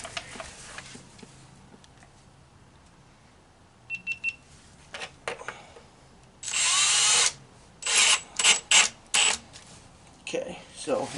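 A Milwaukee cordless drill spinning an ice-fishing tip-up spool held in its chuck, with several short whirring bursts of varying length following quieter clicks and handling sounds.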